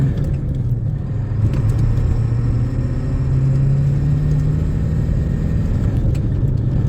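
A truck fitted with a 3-inch downpipe and 4-inch exhaust accelerates on a side street, giving a steady, loud low engine rumble whose tone climbs and swells through the middle of the pull, with no talking.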